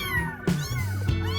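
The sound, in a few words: kitten meowing, village or feral cat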